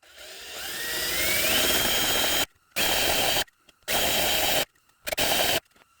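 A small countersinking tool from a brake tool kit spins up into a loud, steady whine, then cuts in and out in several short bursts with brief silences between.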